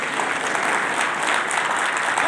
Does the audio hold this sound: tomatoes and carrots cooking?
no